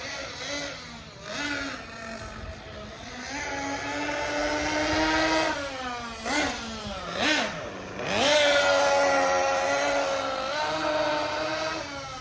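A Losi Eight 1/8-scale nitro RC buggy engine running during break-in, its high buzzing note rising and falling in repeated throttle blips and revs, fairly close and steady with no talk.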